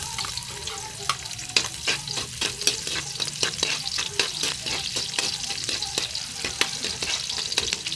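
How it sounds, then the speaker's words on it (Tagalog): Onions for pork menudo sauté in a pan with a steady sizzle, and a utensil stirs and scrapes in a busy, fairly regular rhythm of clicks over the frying hiss. The sound is close, and no one speaks. "umpisa na natin magisa. Ilagay natin una natin ilagay yung sibuyas."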